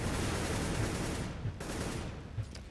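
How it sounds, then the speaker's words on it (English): Rapid gunfire crackles through a Counter-Strike match, with dense bursts and a few sharper shots over a constant wash of game noise, heard at a distance. "that's actually some gunfire going in over there with Modi as we hop on board here."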